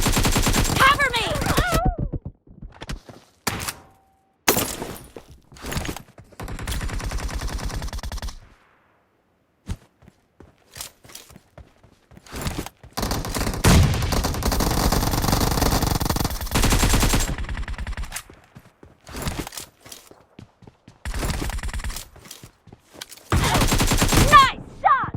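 Gunfire from a PUBG Mobile 4v4 team deathmatch: loud, sustained automatic bursts and rapid shots in long stretches, separated by short silences, with in-game voice callouts heard between volleys.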